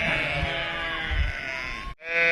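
Sheep bleat continuously up close in a flock moving along outdoors, a sustained wavering call with a brief break near the end before more bleating resumes.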